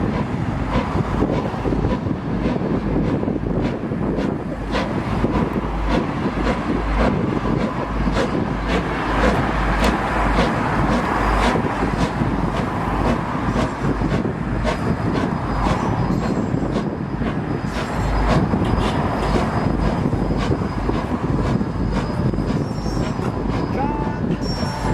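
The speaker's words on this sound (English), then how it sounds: "Here, look at the train." A train rolls past close by, a steady, loud rumble of rail cars and wheels with faint squeal, continuous throughout with some voice mixed in.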